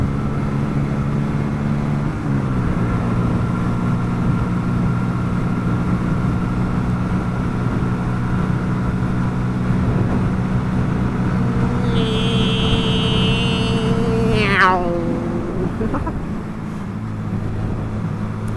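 A motorbike is ridden with a steady, droning engine hum throughout. Near the end the engine pitch sweeps sharply and then settles lower. No one speaks.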